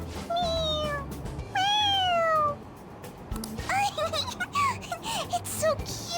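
Several drawn-out cat meows from a cat in the video game Persona 5 Royal, rising and falling in pitch, with a pair of long calls early and a cluster of shorter mews later over faint game background and some talk.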